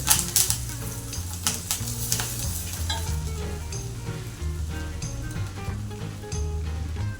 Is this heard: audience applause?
no